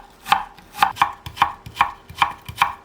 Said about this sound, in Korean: 사과는 제일 마지막에 잘라줄 거예요.